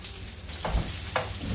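Onion frying in a pan, a steady close sizzle with crackling and a couple of brief stirring scrapes, no talking over it.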